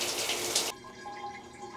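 A brief burst of running shower water, a dense hissing spray that cuts off abruptly after under a second, leaving a quiet room.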